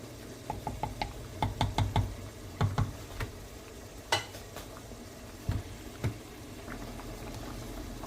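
A pot of rice bubbles at a steady boil, with scattered soft pops and ticks over a constant low hiss, close and quiet.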